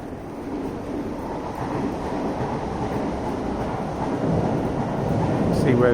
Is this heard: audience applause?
no